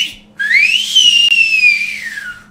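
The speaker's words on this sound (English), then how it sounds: "I wanted to be able to whistle." A single sustained whistle, close and clear, rising in pitch, holding a wavering tone, then gliding down before fading out.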